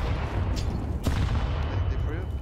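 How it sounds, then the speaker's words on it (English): Gunshots from a Counter-Strike 2 match as a player fires into a wall: a couple of sharp, faint cracks, one near the start and a stronger one midway, over quiet background room noise. "I just hear Loba shooting the wall"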